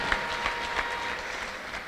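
A church congregation at a prophet's service applauds steadily, dense continuous clapping from a crowd that sounds fairly close and fills the short moment without letup.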